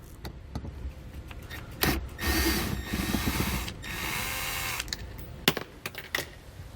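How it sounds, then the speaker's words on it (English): A Phillips head screw is backed out of a panel on a 2020 Mazda CX with a driver, heard as a few seconds of whirring between sharp clicks and light knocks, close and fairly quiet. "We're just going to remove that screw."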